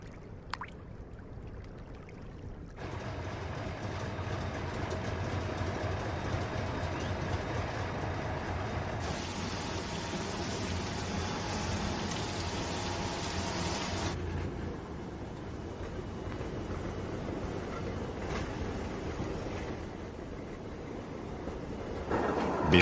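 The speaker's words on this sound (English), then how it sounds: "While the loaded train rolls back into the camps," A loaded salt train rolls back across a lagoon railway into the salt camps, a steady rumbling, hissing rail noise that holds for over twenty seconds, with a brighter metallic squeal joining midway, then easing off.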